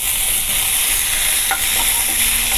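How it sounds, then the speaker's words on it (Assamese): Garlic, ginger, dried chili and tomato fry in hot oil in a pan, giving a loud, continuous sizzle with scraping stirring sounds throughout and no voices. "এইখিনি মই অকণমান ভাজি ল'ম আৰু মই দি আছোঁ এনেকৈ বিলাহী"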